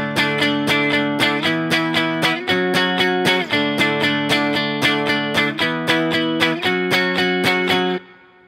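Driven electric guitar strums the chorus of a song without palm muting: sustained open chords in a steady rhythm, ringing freely, ending with a cut-off.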